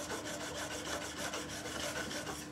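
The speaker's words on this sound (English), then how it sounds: "You can hear that chisel just rubbing on the bench." A steel chisel is rubbed back and forth on abrasive paper around 2,000 grit laid on a wooden workbench during freehand sharpening, giving a steady, close raspy scraping with regular strokes and no talking.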